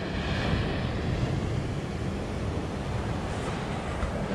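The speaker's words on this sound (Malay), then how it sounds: "kau tengoklah ombak." Rough sea waves roll and churn at a Malaysian fishing spot, a broad continuous wash of surf mixed with wind buffeting the microphone, with no voices.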